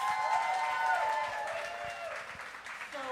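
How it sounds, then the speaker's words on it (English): Audience at a Seattle candidate forum applauding City Attorney candidates, a soft, distant smattering of claps underneath a voice talking over it. "A round of applause for them, folks"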